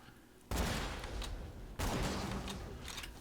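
Two loud, sudden blasts from the Cobra explosive sniper rifle in Borderlands 2 each hit hard, then roll off into a lingering crackling rumble, with no talk over them.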